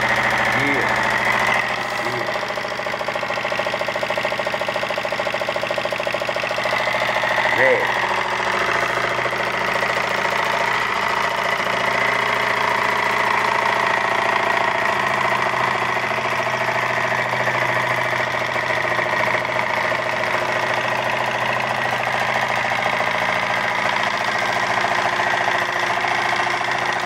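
A small alcohol-fueled engine runs steadily at high speed, above about 2,000 RPM, a continuous buzzing drone with a few clicks near the start, while someone talks over it.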